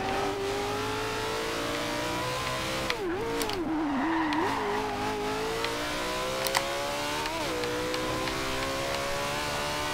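Racing cars from Forza Horizon 2 run a handling test lap, likely a Porsche 918, LaFerrari or McLaren P1, with a steady, loud engine whine that rises through the gears and dips through corners.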